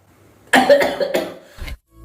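An adult coughs in a quick harsh burst of several hacks, then one shorter cough after a pause, close and fairly loud.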